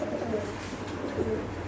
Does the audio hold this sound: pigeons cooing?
yes